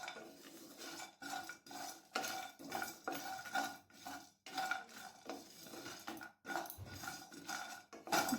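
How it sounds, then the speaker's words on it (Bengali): Whole black peppercorns, dried red chillies, peanuts and cashews are dry-roasted in an oil-free wok. A spatula scrapes and stirs them in quick, repeated strokes, rattling and clinking against the metal, with brief pauses. "এরপর এগুলোকে শুকনো কড়াইয়ে হালকা করে ভেজে নেব।"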